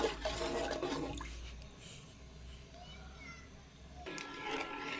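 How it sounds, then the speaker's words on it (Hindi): Water poured from a bowl into a cooking pot while making Punjabi-style aloo matar pulao rice, a rushing splash at the start and again near the end with quieter running water between. "अभी तीसरा बाउल पानी का डाल दिया।"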